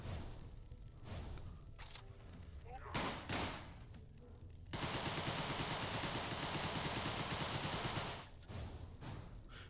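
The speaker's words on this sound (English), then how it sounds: "And the Tommy gun is another weapon that can pierce walls" A Tommy gun rattles off a long, loud, rapid burst of automatic fire in the video game Deadbolt, after a few scattered thuds and clatters, then cuts off abruptly.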